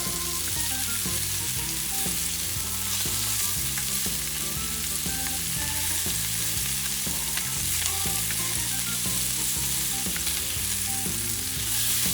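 Scallops sear in a pan with a dense, continuous sizzle and crackle, loud and close, holding steady throughout, while a steady low tonal background runs underneath and no one speaks.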